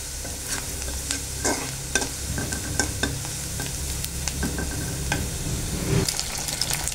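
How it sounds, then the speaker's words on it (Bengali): Onions frying in a pan as they turn brown, a steady close sizzle with frequent scraping stirs and clinks throughout, no voices. "এই যে পেঁয়াজগুলো বাদামি কালার হয়ে আসছে, এখন ডিম দিয়ে নিব"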